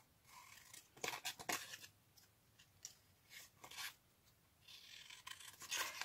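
Scissors snip through paper while cutting out a paper bag shape, a series of faint, close crisp cuts and rustles in irregular bursts, with no talking.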